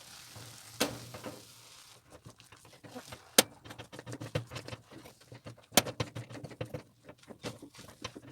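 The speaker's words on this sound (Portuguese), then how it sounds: "O bom é que seja uma colher de pau ou uma colher bem forte, porque a massa fica muito firme" A wooden spoon works a stiff, savoury dough for risoles or coxinha in a pan, giving faint, irregular scraping and soft thuds with a few sharper knocks against the pan.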